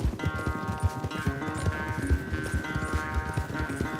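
Horse hooves gallop at a quick, steady rhythm of clip-clop thuds in the Red Dead Redemption 2 video game, close and continuous beneath a sustained musical score.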